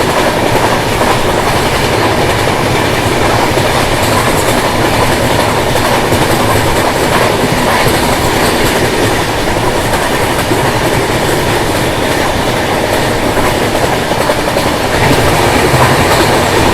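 A train passes close by on an Indian railway line, a loud, continuous rumble with rhythmic clattering of wheels on the rails throughout.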